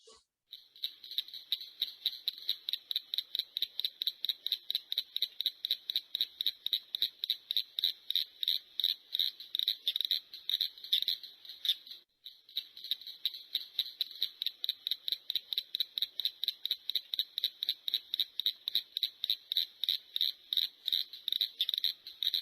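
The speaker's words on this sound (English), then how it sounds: "And here's a whole bunch of cricket frogs, out of abundance index of 3 calling." A dense chorus of cricket frogs calls in rapid, steady clicking pulses, a continuous rattling series at moderate distance with a brief pause midway, recorded outdoors at night for an abundance survey.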